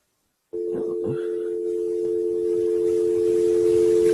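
Steady connection tone from an IP phone in a test setup, starting abruptly after brief silence and holding a continuous, even pitch throughout.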